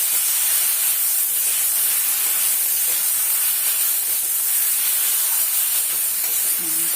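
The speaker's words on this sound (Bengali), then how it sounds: "ওই আলু যে কড়াতে ভাজলাম ওই কড়াতে একটু নাড়িয়ে নিচ্ছি।" Potatoes and spices stirred in oil in a wok for aloo dum, a loud, steady hiss of frying with constant sizzle and no clear pauses.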